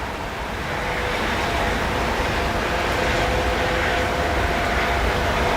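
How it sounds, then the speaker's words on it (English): Car tires thump over the ridges of a concrete road during severe weather, blending into a loud, steady roar of passing traffic with no pauses or distinct individual impacts. "A lot of those are the car wheels hitting the concrete."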